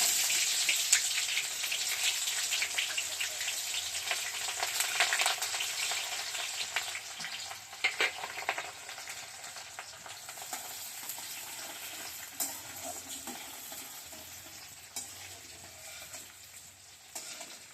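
Chopped onion goes into hot oil already seasoned with dried red chilli and nigella seeds, sizzling and crackling steadily at close range for the whole stretch. Occasional stirring clatters through, and nobody speaks.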